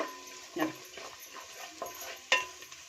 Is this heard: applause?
no